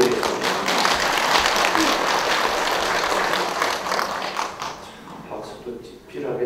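Lecture audience applauding during a Catholic priest's spiritual education talk, a dense, sustained burst of clapping that fills the room for several seconds before thinning and fading out near the end.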